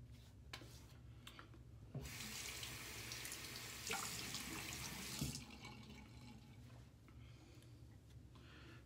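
After a wet shave, a tap runs water into a sink for rinsing, a continuous hiss that starts and stops with small splashes and drips, fairly faint and close, with no talking.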